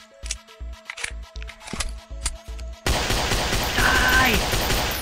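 Gunfire in the video game Dinosaur Hunter Africa: several separate rifle shots ring out in a rhythmic series, then give way to a dense, sustained burst of heavy firing that fills the rest of the moment.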